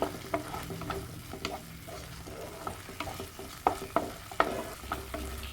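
A spoon stirs a cornflour-and-water mixture into simmering fish masala gravy, with steady sizzling and scraping strokes against the pan, fairly faint and close, with no talk.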